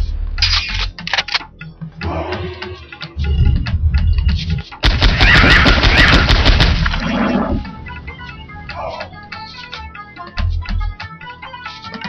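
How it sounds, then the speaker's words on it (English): Gunfire from the PS1 game Exhumed, rapid bursts of shots and harsh blasts with a long sustained barrage in the middle, under the game's ambient sounds and effects. "Oh, change of plan, I'm gonna shoot you."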